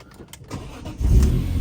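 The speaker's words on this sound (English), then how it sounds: "Car starts fine." A BMW E46 engine cranks briefly with a short whirr and then catches into a loud, low idle rumble close by.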